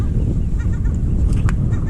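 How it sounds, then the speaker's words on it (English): Seagulls, adults with their young, cry harshly at a beach, their calls rising above a steady, loud wind and surf rumble. "I'm being somewhat harassed by seagulls"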